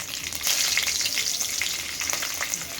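Mustard seeds, cumin and green chillies frying in hot oil give a dense, bright sizzle with scattered crackles and pops. The sound stays steady and close for a few seconds with no talking.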